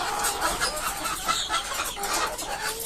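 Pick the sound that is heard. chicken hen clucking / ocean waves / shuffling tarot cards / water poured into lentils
chicken hen clucking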